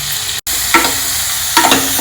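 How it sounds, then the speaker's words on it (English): Onions, green chilli, crushed ginger and curry leaves sizzle steadily in a pot of hot oil, with a brief gap and two louder bursts of stirring as the mix is turned. "Fry these together."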